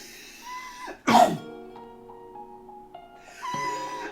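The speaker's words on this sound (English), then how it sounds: "I'm gonna sneeze." A single sharp sneeze bursts out near the mic, surrounded by quiet, with a short exhale-like sound trailing afterward.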